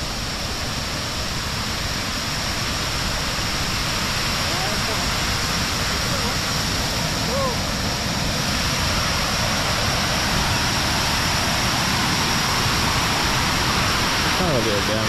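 Water pours over Marble Dam at Natural Bridge State Park in a loud, steady, broadband rush that stays constant the whole time, with no other clear sounds.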